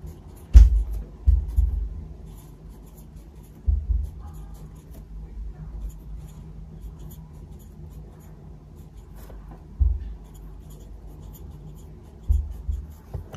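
Soft, intermittent scratching of a pen writing on paper while a study schedule is filled in, quiet close strokes broken by a few low thumps.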